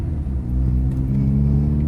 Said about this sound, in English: I did, in fact, cut the muffler off.